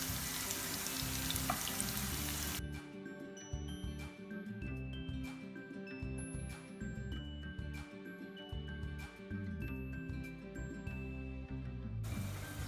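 Peppers sauté in a pan with a faint, even sizzle and occasional light clinks of a utensil, quiet and continuous throughout.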